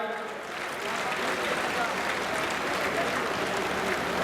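A large crowd in a packed pandal applauds to welcome Baba Ramdev, dense sustained clapping throughout with an amplified voice faintly over it.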